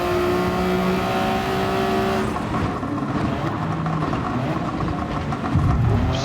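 Race car drifting in the Gran Turismo 7 video game, a loud steady engine drone with tire noise that shifts about two seconds in and carries on without a break.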